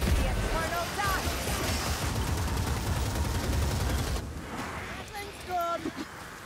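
Rapid Gatling gun fire in Warhammer Vermintide, a dense, loud rattling barrage running under shouted game voices, then easing into quieter combat noise near the end.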